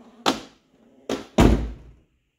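Ford F-150 pickup truck door working nearby: a first solid thunk, then after a short pause a lighter click and a heavier slam close together, all without talk.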